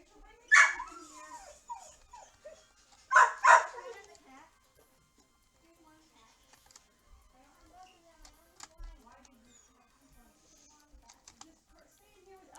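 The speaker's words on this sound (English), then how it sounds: "my dogs are freaking out" Dogs give two sharp bursts of excited barking and yelping indoors, close and loud, followed by soft scattered whimpers and light tapping noises.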